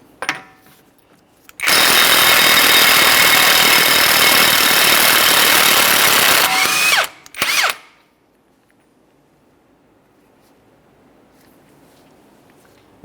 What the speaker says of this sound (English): removing our axle nut